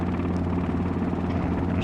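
An R22 helicopter in a flight simulator drones with a steady rotor and engine hum, loud and close, holding an even tone throughout with no one speaking.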